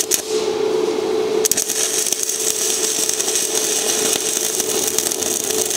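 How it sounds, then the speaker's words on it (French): Stick arc welding with a 2.5 mm electrode, a loud continuous crackling buzz and sizzle that holds steady for several seconds after a brief quieter start, with no talking. "Et là, normalement, ça devrait souder sans problème."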